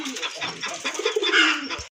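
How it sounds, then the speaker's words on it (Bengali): A pair of old-breed Golla pigeons coo up close in a short, rolling run of soft, throaty calls. "এক জোড়া গোল্লা কবুতর, পুরানো জাতের গোল্লা কবুতর"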